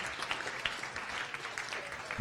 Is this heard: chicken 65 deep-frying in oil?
no